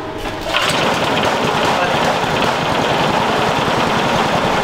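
The small engine of a rice threshing machine starts after a brief quiet moment, then runs with a steady, loud, rapid chugging drone at close range.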